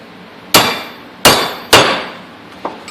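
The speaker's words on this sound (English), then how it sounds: "Hammer it back the other direction." Three loud, sharp hammer blows ring out on the metal u-joint of a Polaris Sportsman 500 ATV under repair, spaced about half a second apart, followed by a fainter fourth tap, with no talking.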